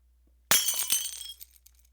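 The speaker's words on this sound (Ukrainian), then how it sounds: "А це був звук розбитого скла." Glass smashes in one sharp crash, followed by a second of bright tinkling shards scattering and settling, loud and close with no voices.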